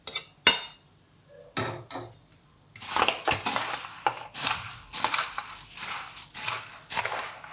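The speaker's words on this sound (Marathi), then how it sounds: "मिक्स करायची सगळी भडंग" Spiced puffed rice (bhadang) being tossed and stirred in a pan, giving a run of close, crisp rustling scrapes and clinks that start sparse, then turn into steady rhythmic bursts with no talking.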